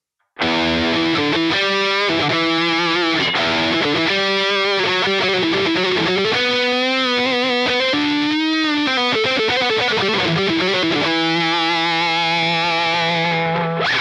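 Distorted electric guitar on the neck pickup, Sustainiac off, with a warm, rounded tone plays a continuous melodic line with sustained notes and bends, steady and loud throughout.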